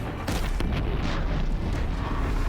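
A Frost Claw's blue sac blowing up after an arrow hit in the Horizon Zero Dawn video game, a loud, close rumbling boom amid continuous battle noise and crackling bursts.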